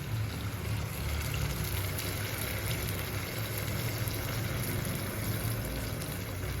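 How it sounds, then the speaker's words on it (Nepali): Already heated water poured into a cooking pot of chicken gravy, a steady continuous rushing, bubbling wash that stays close and even from start to finish without breaks. "पानी पनि हालिदिउँ होला गाइस है यहाँ अलरेडी अलिकति तताएको पानी छ"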